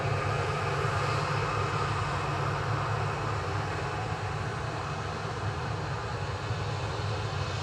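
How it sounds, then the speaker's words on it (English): A small VistaJet business jet on approach gives a steady, even engine roar, moderately distant, holding constant throughout with no voices. "A little VistaJet on approach."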